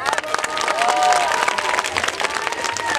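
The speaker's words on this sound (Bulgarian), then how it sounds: "Мощни аплодисменти за Just for Dance." Crowd applause at a Zumba dance showcase, clapping and some cheering mixed with music tones and voices, steady and fairly loud for a few seconds.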